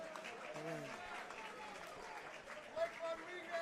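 A crowd at a professional boxing event in a Hilton ballroom applauds both fighters after the bout. The clapping stays moderate and continuous, with voices and some tonal sounds mixed in.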